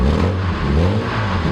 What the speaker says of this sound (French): l'échappement qui résonne un petit peu